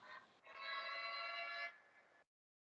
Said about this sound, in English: Oh, that was a phone call. I thought that was a tornado alarm.